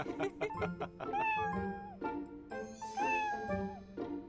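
A kitten meows repeatedly in short, rising calls, several in quick succession with brief pauses, close and clear with no talking.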